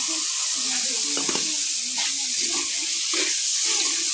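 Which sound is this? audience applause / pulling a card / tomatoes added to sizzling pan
tomatoes added to sizzling pan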